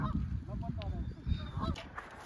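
Geese honking by the water, several loud nasal calls overlapping in quick bursts at close range, with a faint low rumble underneath.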